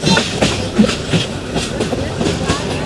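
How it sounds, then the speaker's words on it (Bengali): The Joyantika Express from Dhaka to Sylhet runs along rails beside hills. A loud, constant rumble is heard from inside the carriage, with a repeating clickety-clack beat and a faint voice in the background. "দেখেন পাহাড়ের পাশ দিয়ে ছুটে চলেছে আমাদের ট্রেনটি জয়ন্তিকা এক্সপ্রেস"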